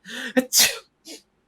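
A single close, loud sneeze, a quick breathy wind-up and sharp burst followed by a short trailing sound, then silence.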